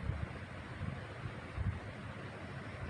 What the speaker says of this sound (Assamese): আজি বতাহ ধুনীয়া মাৰি আছে।